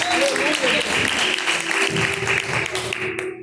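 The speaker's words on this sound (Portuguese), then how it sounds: "Recebe meu esposo, aleluia, com palmas para Jesus" A church congregation bursts into sustained applause for Jesus, loud and steady, with scattered voices and a few cheers mixed into the clapping.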